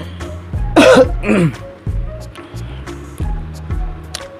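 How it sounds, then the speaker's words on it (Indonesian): A person coughs and clears their throat a few times up close, followed by soft thumps and faint room noise. "Bentar, gua pengen batuk dulu."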